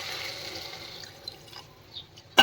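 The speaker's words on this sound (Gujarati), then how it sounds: "હવે આપણે એમાં પાણી એડ કરીશું" Water trickles and splashes into a metal cooker, a steady pouring sound that ends with a sharp clink near the end.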